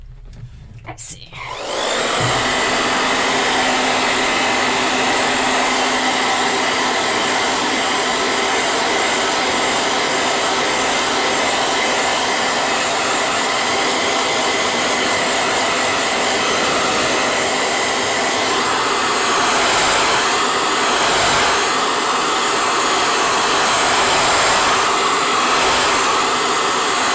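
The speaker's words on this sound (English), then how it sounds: "noisy old hair dryer." An old hair dryer switches on and roars with a loud, steady whirring drone that continues without pause for a long stretch.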